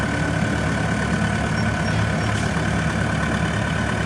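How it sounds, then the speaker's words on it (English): A 1993 Hyster H90XLS pneumatic-tire forklift with a Perkins diesel engine idles steadily, a loud, even, close diesel rumble with no change in pace and no voices. "It's running the Perkins diesel engine."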